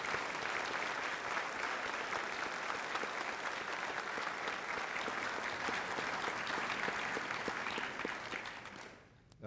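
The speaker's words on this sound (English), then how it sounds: "I would like for the crowd to join me in an applause to thank you for your service to our country." Ceremony crowd at a 16th Air Force change of command gives sustained applause, a steady, dense clatter of many hands that holds for about eight seconds before tapering off.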